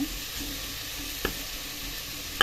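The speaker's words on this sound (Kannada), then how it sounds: "ಸ್ವಲ್ಪತ್ತು ಫ್ರೈ ಆಗಿರ್ತದೆ ಟೊಮೊಟೊ" Chopped tomato frying in a pan, a steady low hiss of sizzling oil with a couple of brief utensil knocks, fairly quiet and close.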